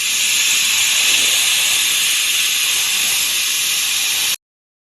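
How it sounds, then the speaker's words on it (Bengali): A pressure cooker holding jackfruit pieces, potatoes and a little water lets out one loud, continuous steam whistle that runs steadily for about four seconds before cutting off abruptly. "প্রেশার কুকারে সামান্য জল দিয়ে প্রথমে কটা সিটি মেরে নেব"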